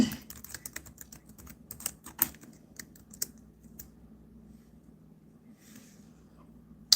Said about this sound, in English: let me type something in the chat really quickly